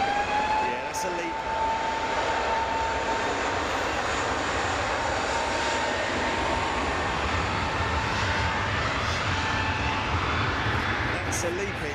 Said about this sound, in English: That's a LEAP engine.